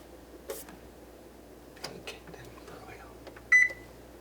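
An oven's control panel gives a short electronic beep near the end as it is set to broil, preceded by faint clicks and handling noises in a quiet kitchen.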